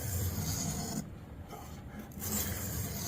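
A pocket knife edge is drawn across a sharpener in close, gritty rasping strokes, with a brief quieter pause between passes.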